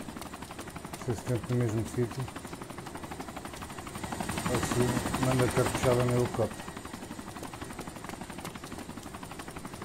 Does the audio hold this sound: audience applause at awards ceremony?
no